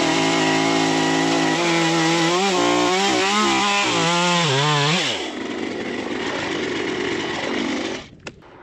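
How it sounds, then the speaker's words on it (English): A loud chainsaw revs and bites through a wooden column, its pitch bending under load for several seconds, then idles down after the cut with a brief clunk at the end. "I'm just gonna use a chainsaw to zip this off"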